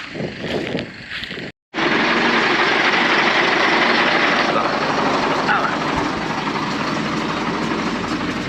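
Kirovets K-701 tractor engine running out in a field, a loud steady diesel drone after a brief cut, with people talking over it.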